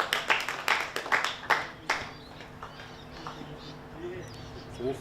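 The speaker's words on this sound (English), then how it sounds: "And here's the applause." Applause at an over-50s veterans cricket match between New Zealand A and Tasmania, a short burst of clapping that fades within two seconds, leaving quiet outdoor ambience with faint birdsong.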